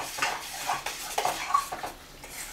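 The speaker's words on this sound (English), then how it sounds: "stir it up good, nice and mixed. melt all that cheese in there." A spoon scrapes and clanks around a pot of Kraft Dinner macaroni and cheese, with repeated close knocks and wet stirring sounds at an uneven rhythm, no voices.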